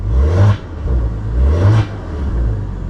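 A 2015 Maserati Ghibli S Q4 engine revs twice in quick succession, each blip swelling and falling away, then a third, lighter rise, heard close and loud with no talking.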